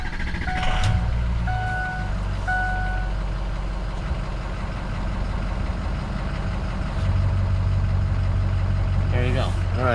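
A 2007 Ford F250 diesel pickup with about 180,748 miles is started and left idling, a steady low rumble throughout, with a few brief electronic chimes early on.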